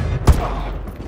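A single sharp gunshot in Call of Duty: Modern Warfare 2, fired to take down a target, with one loud close crack and a brief tail over a low game background.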